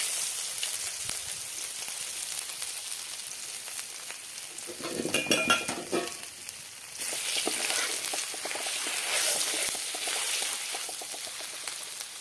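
Steady crackling sizzle of mustard seeds, cumin and asafoetida hitting hot oil, dense and close, with a brief louder burst of spattering partway through, no talking.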